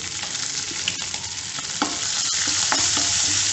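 Green chillies, curry leaves and asafoetida fry in a pan of hot oil with a steady close sizzle, broken by a few sharp clicks and scrapes as a spoon stirs them.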